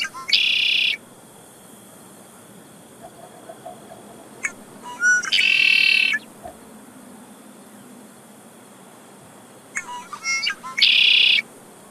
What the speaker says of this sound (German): Der Rotschultersterling ist weit verbreitet.